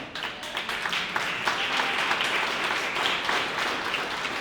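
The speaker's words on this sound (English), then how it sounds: "That applause is for you." Lively applause from a crowd at a Black community meeting, a continuous wash of clapping with small surges in intensity for several seconds.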